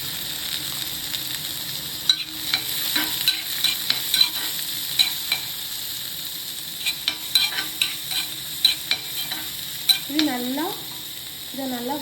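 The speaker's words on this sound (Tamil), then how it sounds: "இதை நல்லா வதக்கிக்கலாம்." Finely chopped onions sautéing in a pan for brinjal bharta, a steady close sizzle with repeated scraping stirs and clinks of the spoon against the pan, no talk.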